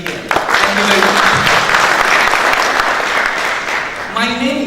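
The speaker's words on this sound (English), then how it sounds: "So round of applause to the committee and everybody here." Steady round of applause from a conference audience at a keynote session, loud and dense throughout, with a voice coming in near the end.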